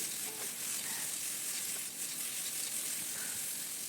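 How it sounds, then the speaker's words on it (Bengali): Drumstick stems stir-fried with turmeric and salt in a pan, a steady, quiet sizzle and hiss throughout with faint scraping of stirring. "রাঁধুনি ফোড়ন দিয়ে আমি দিয়ে দিলাম সজনে ডাঁটা কলাগুলো এবার কিছুটা সময় নাড়িয়ে চাড়িয়ে"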